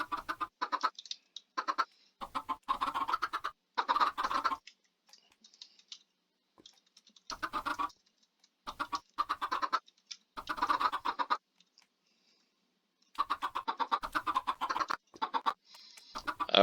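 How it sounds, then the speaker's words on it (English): Chickens in a Minecraft automatic chicken farm cluck in short clustered bursts with silent gaps between, fairly clear and close, no voices. "you can tell we've got a nice stack of freshly born baby chickens right there"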